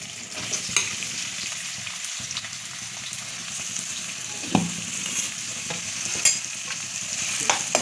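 Onions sizzle steadily in hot oil, with occasional scrapes and clinks of a spatula stirring the pan; no talking.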